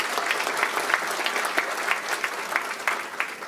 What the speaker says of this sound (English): let's give each of them a round of applause for all that they did